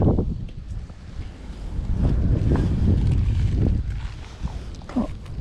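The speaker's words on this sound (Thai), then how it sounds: "ลมแรงมากนะครับ" Strong gusting wind buffets the microphone at an outdoor snakehead fishing pond on a cold day, a loud continuous low roar that swells and eases.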